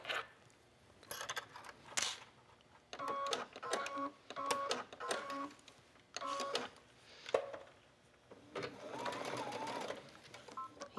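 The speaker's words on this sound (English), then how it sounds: "So I'm just gonna stitch just for a minute here" A sewing machine runs a long straight basting stitch along a ribbed waistband on a sporty skirt, in several short bursts of whirring with pauses between them.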